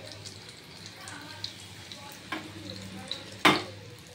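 Battered okra fritters (pakora) fry in hot oil, a soft steady sizzle close by, punctuated by light stirring clinks and a louder clatter near the end, with faint talk in the background.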